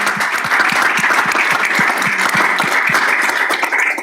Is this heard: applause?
yes